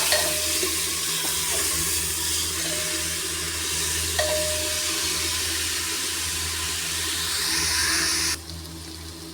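A masala of onions and salt fries and is stirred in a pan, giving a continuous close sizzle with occasional scraping strokes that stops abruptly near the end, with no voices.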